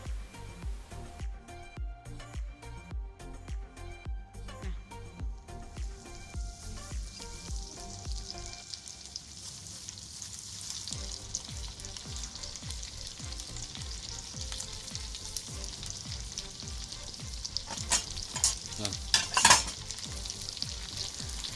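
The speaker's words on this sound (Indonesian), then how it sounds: "kita panaskan lagi minyak untuk menggoreng ikan teri" Small anchovies sizzle and crackle steadily in hot oil until crisp, with occasional stirring scrapes and a burst of louder spattering near the end.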